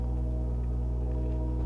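Train passing outside a craft room, a steady low rumble with a faint horn-like drone, distant and continuous throughout.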